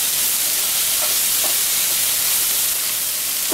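Chopped tomatoes and soaked cashew nuts fry in a hot kadai pan with onions, giving a steady, close hiss of sizzling oil that holds evenly throughout with no voices.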